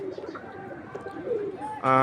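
Pigeon cooing, a soft low murmur running under background noise through most of the stretch, with a louder burst of sound at the very end.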